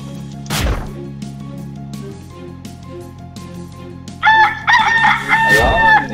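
Rooster crows in the Rooster Battle NFT video game: a loud, close crow rings out over looping game music, followed by bright chiming effects and a second crow near the end.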